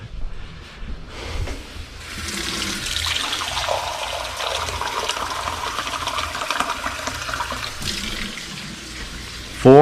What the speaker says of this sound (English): So now we are going to start incorporating the water.